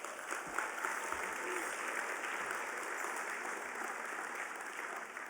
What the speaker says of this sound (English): you should give yourself a big round of applause